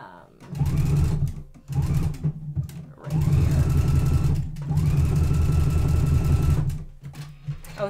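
A home sewing machine stitches a knit seam on a cardigan jacket in short start-stop bursts, its rapid motor whir rising and halting several times, loud and close, with brief pauses between runs.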